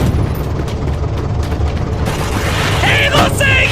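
Tank cannon fire in a wartime video game, a heavy booming blast layered over a dense, roaring battle din, loud and close, with a sharper burst toward the end.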